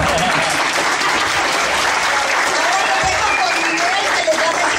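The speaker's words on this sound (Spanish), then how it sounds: "Así que un aplauso a nosotros," Loud applause from a crowd, dense continuous clapping with a few voices faintly audible beneath it.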